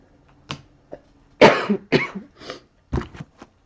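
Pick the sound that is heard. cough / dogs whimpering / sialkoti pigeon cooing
cough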